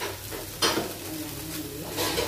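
Egg-coated naem, Thai fermented pork, frying in a pan with a steady sizzle, plus a louder burst of spatter and scraping about a third of the way in and again near the end.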